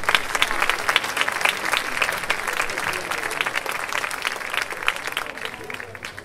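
Audience at an outdoor evening concert applauds, a dense, steady wash of many hands clapping that slowly fades toward the end.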